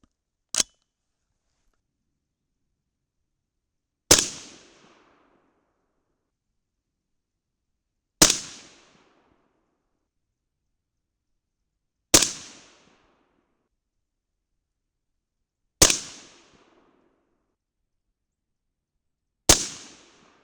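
A .223 Remington rifle fires Hornady 73gr ELD bullets: six sharp, loud cracks spaced about four seconds apart, each ending in a short decaying tail, with silence between and no talking.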